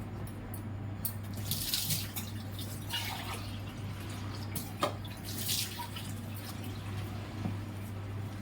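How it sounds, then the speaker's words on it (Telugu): Water poured into ragi flour dough for instant dosa, trickling and splashing in short bursts with drips, fairly quiet over a low steady hum. "ఇంకా వాటర్ పడుతుంది. అంటే నేను మొత్తం పోసేస్తున్నాను."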